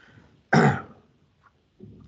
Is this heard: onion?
no